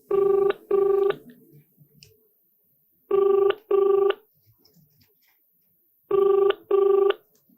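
A telephone rings unanswered in three double-ring bursts with pauses between, loud and clear with no voices over it.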